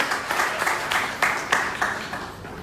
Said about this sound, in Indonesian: Ini artis kita, tepuk tangan